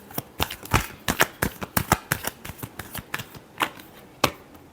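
Close, crisp riffling of a tarot deck being shuffled, a quick uneven series of papery snaps and flicks that trails off after a few seconds, heard alone.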